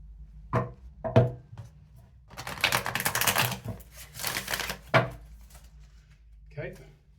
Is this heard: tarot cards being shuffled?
yes